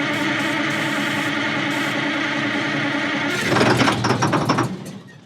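A 100,000 lb Insley excavator engine, left sitting for 30 years, runs with a steady rough drone, then swells into a louder, harsher rattling surge before easing off, with no talking.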